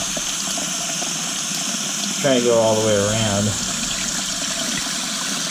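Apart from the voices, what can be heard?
water rinsing dishes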